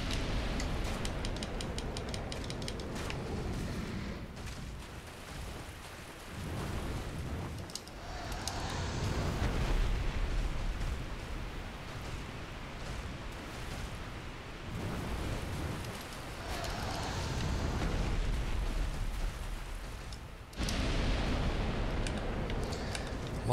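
The dragon Kalameet in Dark Souls unleashes a sideways fire-breath attack, a sustained, loud roaring rush of noise that swells and surges in waves with no talking over it.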